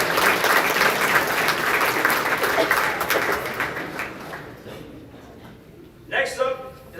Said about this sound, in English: Let me give one more round of applause to all of our individual award winners this year.